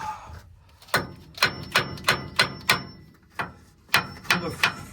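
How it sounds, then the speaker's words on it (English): Hammer tapping on a machined steel pump cover: about a dozen sharp metallic strikes in an irregular rhythm, each with a brief ringing tone. The strikes are close and moderately loud, with no voices. "Just kind of tapping around the cover."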